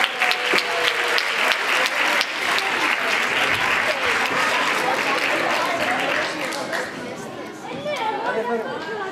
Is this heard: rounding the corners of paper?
no